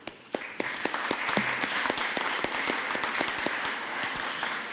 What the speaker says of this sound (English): So let's give another big round of applause.